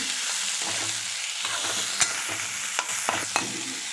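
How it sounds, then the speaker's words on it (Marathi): Boiled, chopped potatoes being sautéed in hot oil with fried green chillies for a fasting potato dish, a continuous sizzle broken by repeated spatula scrapes and light clinks against the pan. "आता उकडलेले चिरून घेतलेले बटाटे मी घरतलेले आहेत आता परतून घेत आहे"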